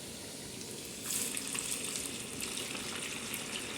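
Garlic and ginger fry in already hot oil over a low flame, giving a quiet, steady sizzle that grows a little livelier after the first second and carries on alone with no talking.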